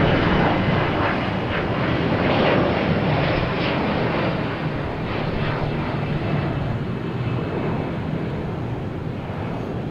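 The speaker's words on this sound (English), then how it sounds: "or it might just be the American 777 heading to London Heathrow" American Airlines Boeing 777 jet taking off at Boston Logan Airport, a loud, continuous broad roar of engine thrust that holds steady and eases only slightly over the span, with no talking.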